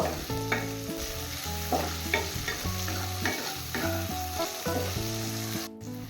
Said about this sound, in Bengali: এবার নুন সবজির সাথে ভালো করে মিশিয়ে নেব।